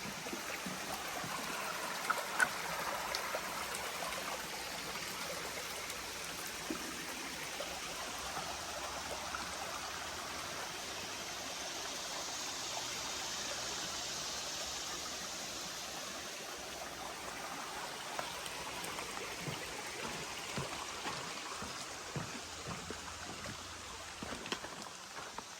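Continuous rushing and babbling of a flowing mountain stream on the Appalachian Trail, steady and fairly close, with no voices.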